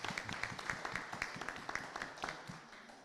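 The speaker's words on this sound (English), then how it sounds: "A big hearty clap for her." A seated audience at a Rotary Club of Langata induction ceremony gives a hearty round of applause for a new inductee. The claps are quick and scattered, fairly faint and distant, and nobody speaks.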